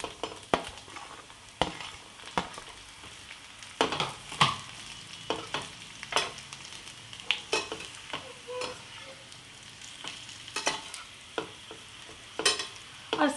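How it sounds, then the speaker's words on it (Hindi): Potato slices fry in a pan for a spicy aloo katli dish, with a soft steady sizzle broken by frequent sharp scrapes and taps of the spatula, close and without talk. "और इसके बाद डालेंगे आलू की कतलियां।"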